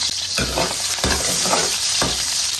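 Scallion, ginger and garlic stir-fried in hot oil at the start of a braised pork intestine and rib dish: a steady, loud sizzle broken by about three sharp bursts of stirring and tossing.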